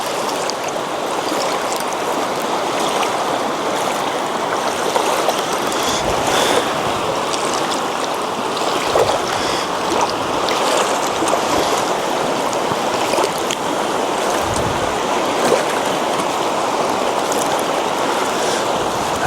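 Rushing river water surrounds a raft in a steady, loud, unbroken wash of noise, with occasional splashes and thumps and no talking.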